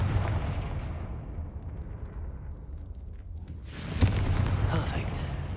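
A Confringo fire spell in the video game Hogwarts Legacy erupts as a booming explosion over a dense low rumble of game noise, with a sharper blast near the end.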